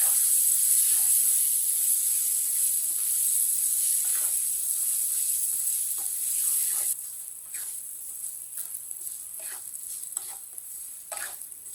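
Semolina and fennel seeds being stirred in a pan for halwa, with a soft steady sizzle and the scrape of a spoon against the pan, plus a high constant hiss throughout.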